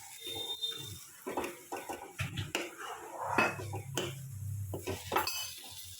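Metal spoon scraping and clanking against a pot while a jaggery mixture is stirred over heat, irregular knocks and scrapes close by, with a faint sizzle underneath.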